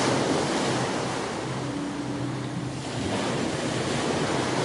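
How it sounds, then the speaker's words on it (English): Gentle sea waves wash steadily onto a calm shore, a continuous soft surf with breezy wind noise and no voices. "she becomes aware of the slow, gentle rhythm of the sea"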